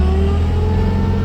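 A 1956 Volkswagen Oval convertible's engine pulls steadily while driving, a loud, continuous low rumble with a rising harmonic hum and no pauses.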